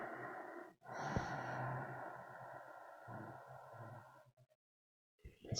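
Soft, slow breaths with an occasional snort-like exhale during leg stretches in a yoga session, faint and intimate, trailing into silence near the end.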